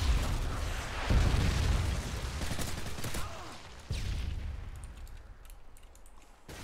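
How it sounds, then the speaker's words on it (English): Predator missile strike explosions from the video game Modern Warfare 2, heavy booming blasts with rumbling gunfire, a big impact near the start and another sharp blast midway, fading into distant battle noise. "Friendly predator missile inbound."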